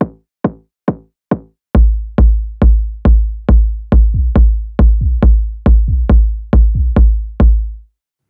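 Layered electronic kick drum made in Ableton 11, punchy thumps with a deep booming low tail, a few sparse hits first, then a steady fast four-on-the-floor pattern of loud repeated kicks with no voices.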